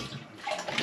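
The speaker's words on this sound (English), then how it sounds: "it doesn't flush completely" A pneumatic push-button toilet with its front panel removed gives a weak, incomplete flush: a brief rush of water that swells slightly toward the end, heard close and alone.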